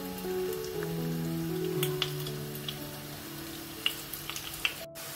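Chopped onions sizzle in about half a cup of hot oil, a steady close crackle and hiss with a few sharper pops and a clink near the end.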